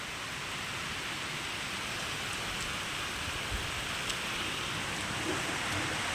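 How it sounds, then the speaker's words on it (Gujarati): Heavy rain over waterlogged farm fields hisses steadily without a break, a broad even wash of falling water with faint scattered drops and no voices. "જોધમાલ વરસાદ ચાલુ હે અત્યારે"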